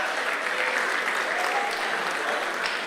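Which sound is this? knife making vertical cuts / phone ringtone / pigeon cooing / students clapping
students clapping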